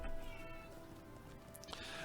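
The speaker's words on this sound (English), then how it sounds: "I am hearing some meowing" A cat meows faintly in the background of a livestreamed online game marathon, with steady harmonic tones and noise running throughout and a brief brighter cry near the end.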